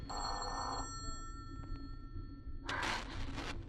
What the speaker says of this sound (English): Answer the phone, Ruth.